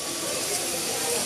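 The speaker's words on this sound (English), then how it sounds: "1916 Baldwin 440, everybody's favorite train." A 1916 Baldwin 4-4-0 steam locomotive of the Walt Disney World Railroad arrives with a steady, even hiss of steam that holds at a moderate level through the whole short moment.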